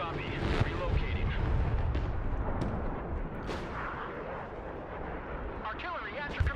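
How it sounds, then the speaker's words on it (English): An artillery barrage lands in the video game Broken Arrow, a dense rolling rumble of booms and crackling impacts that goes on throughout, with radio chatter and voices over the top. "There goes my artillery coming in super late"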